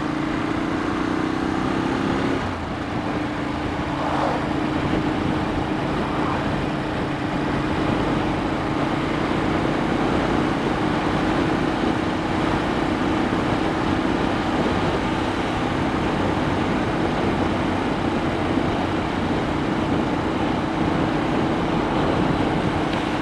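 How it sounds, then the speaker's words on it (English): A Ducati Monster R motorcycle rides along a quiet winter road, its engine a steady, loud drone with rushing wind noise throughout and a brief shift in tone near the start. "Great to be out on a motorcycle in the winter."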